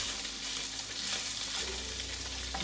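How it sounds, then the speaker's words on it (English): Chicken pieces sizzle and fry in a pan for Cajun chicken pasta, a steady close crackle with light scraping from stirring. "I'm just stirring them."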